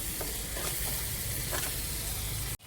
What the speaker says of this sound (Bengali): এবারে সুন্দর করে এটা নাড়তে থাকবো মশলাটা